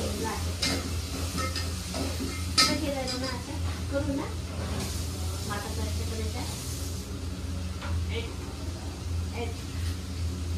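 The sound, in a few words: tomatoes and curry leaves sizzling in sambar pot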